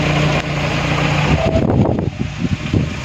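A vehicle engine runs steadily at close range, a continuous rumbling hum with some irregular clattering toward the end, with no talking.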